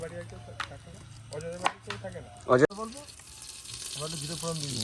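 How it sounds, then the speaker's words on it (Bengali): Cumin seeds are dropped into hot oil for tempering, a sudden sizzle that bursts in partway through and keeps hissing steadily, under people talking nearby. "জিরে ফোড়ন"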